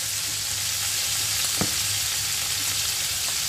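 Chicken coated in spices frying in a pan, giving a steady, close sizzle that runs throughout, with one brief clink partway through.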